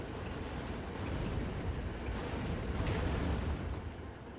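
Puma vehicle cannons fire in a real-time strategy battle in Act of Aggression, a dense, continuous rumble of booming shots and explosions at moderate loudness with no talk.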